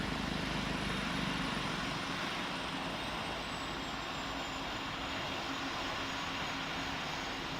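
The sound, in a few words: airplane landing in Roblox game Pilot Training Flight Simulator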